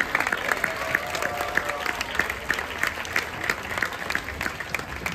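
Steady applause from a live cabaret audience at Magic Melodies, many hands clapping in a dense, even wash that holds at moderate loudness throughout, with no speech over it.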